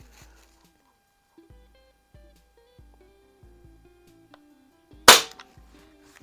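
A single sharp, loud crack from a Crosman 3622 air rifle fired during a shot curve test stands out against a quiet background of faint, regular ticking and soft beeps.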